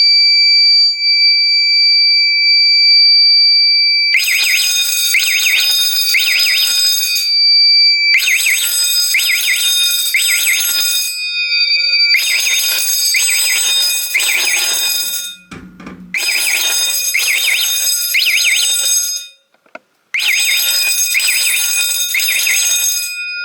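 A home fire alarm system set off by a heat detector heated with a lighter sounds loudly nearby in repeated bursts of shrill tonal beeping over a steady high tone, with short gaps between cycles.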